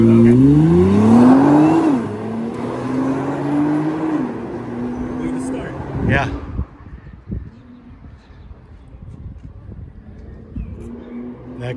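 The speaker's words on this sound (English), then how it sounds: "That car sounds good, I can tell you." A car engine accelerates hard, its pitch climbing through two rising sweeps before holding at a steadier drone, loud and close, with brief voices at moments.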